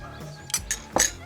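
A utensil clinks and scrapes against a bowl while sauce liquids with creamed horseradish and cayenne are stirred together, three or four sharp close taps in quick succession.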